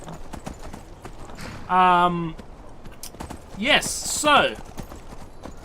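Horse hooves clip-clopping in the video game Skyrim, a steady, soft hoof rhythm running beneath a voice as he talks over it.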